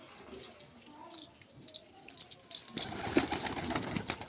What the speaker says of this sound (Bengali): তো এই আমার সব কাবুতর